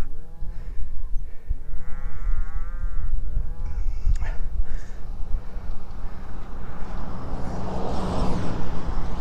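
Several cows moo loudly and close by, long drawn-out lowing calls overlapping against outdoor background noise.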